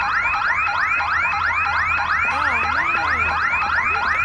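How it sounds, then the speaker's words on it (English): Car alarm in the video game Secret Files 2: a looping, rising electronic whoop repeating about twice a second, loud and alone, with a brief warbling tone mixed in partway through. "My car! Alarm's gone off."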